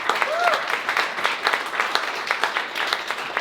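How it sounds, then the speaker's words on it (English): An audience gives a round of applause for a speaker at a speakers' showcase, a dense crowd of clapping hands, moderately close and steady, with a faint voice briefly audible early on. "Another round of applause for Beth."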